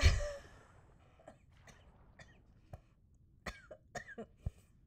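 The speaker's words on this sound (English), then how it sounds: "Now I'm coughing." A person coughs hard once, followed by several smaller coughs and throaty breaths, close and otherwise quiet.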